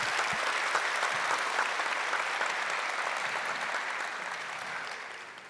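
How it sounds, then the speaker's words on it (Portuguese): A church congregation applauds at Mass, a dense, steady round of clapping that fills the space and slowly fades toward the end. "Uma salva de palmas para ela."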